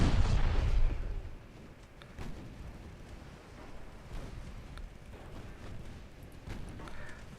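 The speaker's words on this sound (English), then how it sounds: "The secondary gun should continue firing." Naval secondary guns fire in an Ultimate Admiral Dreadnoughts sea battle, opening with a heavy boom and followed by repeated muffled distant shots over wind and sea rumble.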